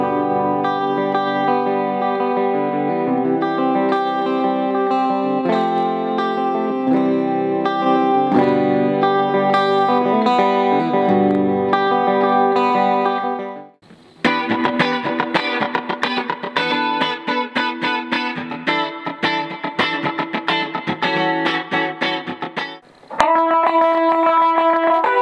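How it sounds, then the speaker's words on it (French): Electric guitar through a Fazley Kubo 15 BBT combo amp with overdrive and heavy metal distortion, sustained chords ringing loud and continuous, then choppy palm-muted riffing after a short break, with no talking. "plus vous montez, plus vous allez dans la distorsion, plus vous allez dans les sonorités heavy metal et metal"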